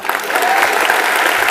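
Audience applause for Chef Ajay Chopra at a hospitality convention, a loud dense burst of clapping from a crowd that swells quickly and holds.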